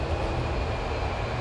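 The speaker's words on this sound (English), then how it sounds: "And those 4 Olympus engines, just listen to them whine." Four Rolls-Royce Olympus jet engines of an Avro Vulcan bomber in Microsoft Flight Simulator 2024 give a steady, loud, continuous roar with a faint high whine on top, unbroken for the whole stretch.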